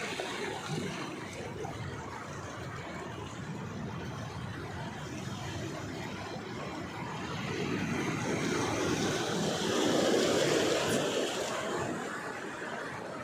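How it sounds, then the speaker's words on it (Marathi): Foamy sea water crashing against rocks on the Konkan coast makes a steady, full-bodied roar that swells louder for a few seconds near the end, continuous and with no voices. "समुद्राचं असं मस्त फेसाळ पाणी जेव्हा असं दगडांवर आपटून इतका छान आवाज येतो"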